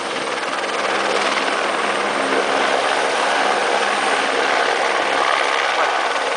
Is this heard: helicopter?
yes